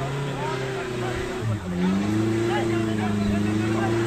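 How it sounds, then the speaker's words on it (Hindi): A car skids and revs on a snowy road during snowfall in Solang Valley near Manali, with a sustained close engine drone whose pitch dips and then climbs again as the wheels spin. "देख रहे हैं गाड़ी कितनी स्किड कर रही है,"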